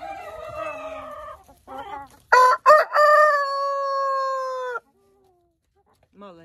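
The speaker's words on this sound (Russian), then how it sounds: "Ну, давай ты еще кукарекай." A farmyard rooster crows close up in one long, loud, drawn-out call, with softer clucking from hens before it and brief quiet afterward.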